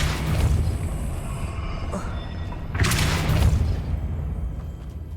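Depulso force spell impacts in Hogwarts Legacy: a booming whoosh at the start, then a second heavy burst midway that rumbles and decays, over continuous game ambience.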